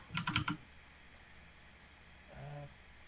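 Keys clatter on a computer keyboard in a quick burst of several clicks, close and crisp, then stop; a brief voice sounds afterward.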